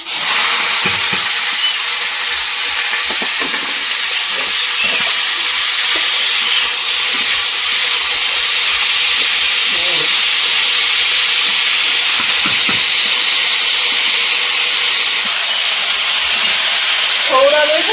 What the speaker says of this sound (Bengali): এক এক করে সব সবজিগুলো ভেজে নিই